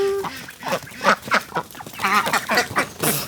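Several small ducks quacking in quick, irregular bursts close by, busy overlapping calls with a brief higher squeak at the end.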